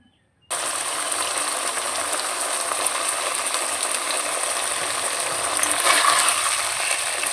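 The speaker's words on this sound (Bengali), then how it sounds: "চিকেনটা আমি কষিয়ে নিচ্ছি দেখো" Chicken sautéing in a pan gives off a steady, loud frying hiss that starts abruptly and runs on without a break, swelling slightly near the end, with no talking.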